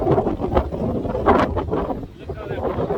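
Strong gusting wind during a wind storm in New Mexico, loud buffeting roar hitting the microphone in uneven surges, briefly easing before picking up again.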